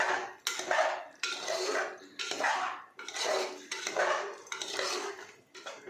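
Soaked rice and vegetables are stirred together in a pot for vegetable pulao. Close, rhythmic scraping and clattering strokes come about once a second, each a short burst with a gap between.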